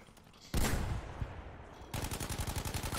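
Gunfire in the Battlefield 5 video game: a loud burst of shots with a decaying blast, then a rapid, evenly spaced string of automatic fire, close and without speech.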